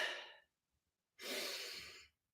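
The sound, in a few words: clavicular breathing demonstration, shallow upper-chest breaths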